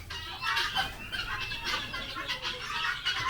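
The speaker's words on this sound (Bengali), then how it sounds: "তিতির পাখিগুলো কেমন করছে" Guinea fowl on a farm give a continuous, fairly loud chorus of harsh, rapid clucking cackles from several birds close by, with no talk.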